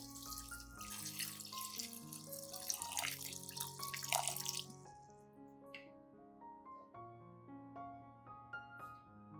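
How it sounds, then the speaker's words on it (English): Clean water, about 500 milliliters, poured into a small pot holding sliced bananas, a bright rushing splash for the first few seconds that fades out, with tonal music playing throughout. "Then add about 500 milliliters of clean water."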